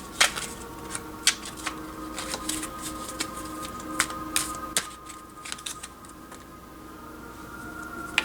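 Tarot cards shuffled by hand at close range, a run of quick riffling snaps and soft slaps, irregular and fairly quiet, fading to a lighter rustle near the end.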